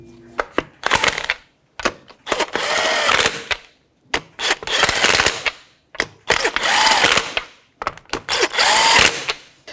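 Lug nuts on a 2009-2014 Nissan Maxima wheel are tightened with a 21 mm socket, giving repeated bursts of ratcheting, metallic clicking and whirring, each lasting about a second with short pauses between.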